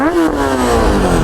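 A Kawasaki Ninja 1000 SX sport motorcycle with a black bend pipe and stock end can revs up loudly and close by, its engine note rising sharply then holding at a steady high pitch.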